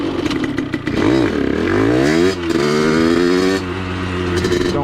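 A Vent DR70 motorcycle fitted with a Giannelli expansion chamber and DBR exhaust, ridden at night, its loud, close engine revving up and falling back in repeated sweeps as it accelerates.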